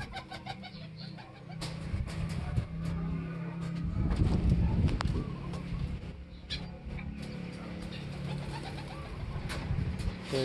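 Racing pigeons arriving at a loft after a 50 km smash toss race, with soft repeated cooing and wing flutters over a steady outdoor background, fairly close and continuous.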